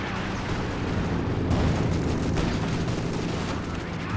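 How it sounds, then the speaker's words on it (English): White phosphorus artillery barrage landing in Company of Heroes 2, a continuous rumbling wash of impacts, crackling bursts and distant gunfire, dense and steady throughout without a clear break. "And we got the white phosphorus coming in."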